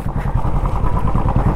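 A Yamaha RX100 motorcycle engine while riding: loud, close, rapid, even putter with a throaty low thrum, held steady throughout.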